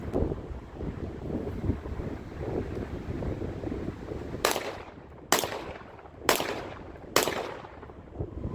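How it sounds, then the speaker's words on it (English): A Panzer EG200 shotgun loaded with buckshot fires four loud blasts outdoors, each about a second apart, over gusty wind noise buffeting the microphone. "we're shooting 4 buckshot, 3 in the magazine, 1 in the chamber"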